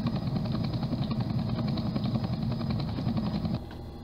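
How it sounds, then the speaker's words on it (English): Helicopter in the Roblox game Mega Mansion Tycoon, a steady dense rotor-and-engine drone held loud and close for about three and a half seconds before dropping to a lower level near the end. "That's a helicopter."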